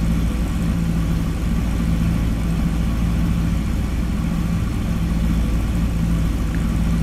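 Robinson R22 helicopter engine in a flight simulator with throttle at 70%, a steady droning hum with a low rhythmic beat, constant and fairly loud with no talk over it.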